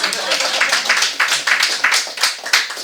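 A church congregation at a Sunday afternoon service claps in a steady, rhythmic patter of sharp hand claps, close and moderately loud, filling the room.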